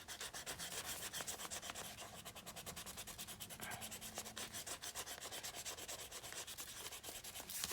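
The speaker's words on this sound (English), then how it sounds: "Somebody had written on this music here. I think I'm going to erase that." An eraser rubbing writing off a printed music page in an altered book journal, a quiet rapid back-and-forth scrubbing in fast even strokes, close and continuous.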